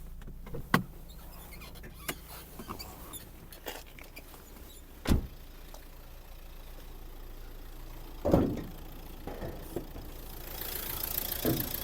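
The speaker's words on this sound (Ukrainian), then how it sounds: "Робота двигуна" A Renault Megane 3 1.5 dCi diesel engine idles steadily at low pitch, broken by a few sharp clunks and knocks, with no one speaking.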